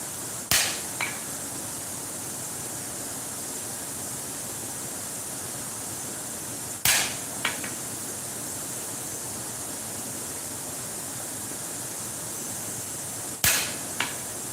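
Hammer blows ring out on metal at a forge, three isolated sharp strikes spaced several seconds apart, each with a brief metallic ring and a quick echoing rebound, over a steady hiss of background noise.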